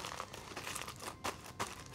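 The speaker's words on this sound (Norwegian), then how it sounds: "Så tar vi av aluminiumsfolien. Det skal vi krølle sammen." Aluminium foil taken off a steamed pork rib roast is crumpled into a ball, making close, crisp crinkling and rustling with a few sharper crackles throughout, and no voices.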